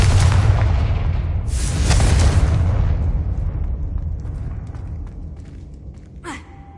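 Confringo fire spell explosions in Hogwarts Legacy on PS5 make heavy booming blasts that roll and fade over several seconds, loud and close, ending with a short bright magical zap.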